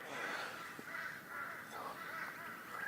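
Crows caw repeatedly at dawn before sunrise from a home deck on a foggy morning, several harsh calls in an irregular series, moderately distant over a quiet background.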